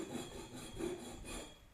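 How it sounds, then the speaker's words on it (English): Flat face of a half round file rasps across metal being squared up after welding practice, three rough back-and-forth strokes, quiet and close. "Now I take the flat part of the half round file and go like this."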